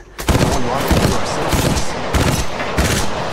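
Rapid automatic gunfire from an attacking squad in the mobile shooter Apex Legends Mobile, loud and sustained in dense bursts with short gaps, a voice faintly beneath.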